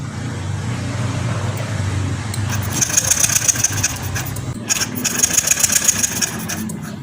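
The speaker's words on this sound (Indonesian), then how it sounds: "Sekarang double starter Pak ya." A Yamaha Lexi scooter with a sudden ignition fault cranks on its electric starter twice, each a buzzing whir over a steady low hum, close and loud, without catching and with no talk.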